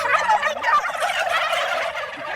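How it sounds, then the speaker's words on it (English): A flock of about 225 turkeys gobbles continuously at a local farm, a dense, close chorus of overlapping calls with no pause across the whole stretch. "Right behind me, there's about 225 turkeys"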